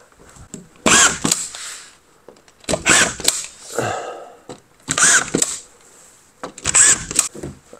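A power drill drives screws in four short, evenly spaced whirring bursts, loud and close, with near silence between each one.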